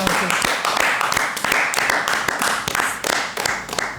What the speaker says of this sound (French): je vais demander sur ce plateau d'applaudir les 2 guerrières qui sont là